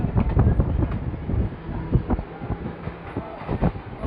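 A crowded Mumbai local train bound for Parel, running from Thane station, rumbles and rattles steadily with clanking bursts, loud and continuous with no talk.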